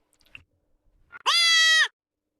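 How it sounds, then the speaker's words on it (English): A baby goat's bleat plays as a sound effect in an alpine sound installation, one clear, wavering, nasal cry lasting over half a second, close and alone after a few faint clicks. "Baby goat."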